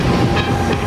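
Hong Kong's airport express train runs on rails to the passenger terminal, a loud continuous rumbling roar with faint rhythmic clatter throughout.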